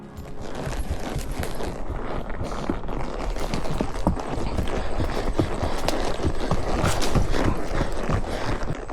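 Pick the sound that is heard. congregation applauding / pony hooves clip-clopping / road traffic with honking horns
pony hooves clip-clopping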